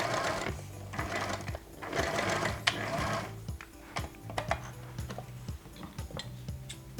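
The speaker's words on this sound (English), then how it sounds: "I will stitch from the waistline and stop on this 1-inch point" Sewing machine stitching a trouser waistline, running in quick bursts of rapid mechanical chatter separated by brief pauses, close and clear.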